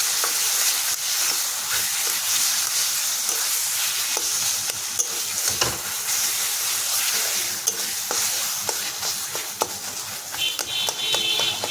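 Roasted ground coriander, cumin and garam masala frying in a pan, a steady bright sizzle with intermittent scrapes and taps of stirring, close and without talk.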